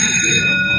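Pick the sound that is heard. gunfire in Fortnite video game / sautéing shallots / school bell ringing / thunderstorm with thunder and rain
school bell ringing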